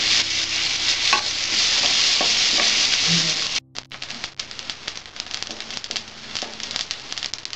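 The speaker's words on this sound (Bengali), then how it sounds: "ভালো করে একটু ভেজে নেবো, লাল লাল করে।" Coconut pieces fry to a reddish brown in a pan, making a dense hissing sizzle that suddenly drops to softer crackling and intermittent stirring scrapes as the heat is lowered.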